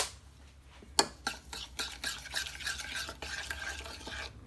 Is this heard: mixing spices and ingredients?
yes